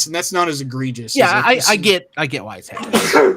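A person sneezes once during a lively conversation about Star Trek: Deep Space Nine, the burst cutting briefly through steady, close talk from several voices.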